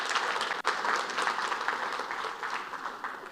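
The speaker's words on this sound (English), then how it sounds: "So round of applause, please, for all the spouses who were also involved." An audience at an airport cooperation conference applauds, a full even wash of many hands clapping close by, with a brief dropout near the start before it carries on steadily.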